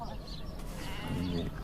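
Sheep bleat at a southern Tunisian shearing festival, a short wavering call rising over a busy background of people talking nearby.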